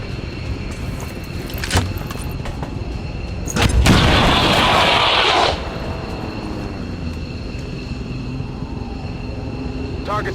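Grenade blast in the game XCOM 2: a deep boom followed by a roughly two-second roar of debris and rumble over a steady background drone, with a couple of sharper cracks just before.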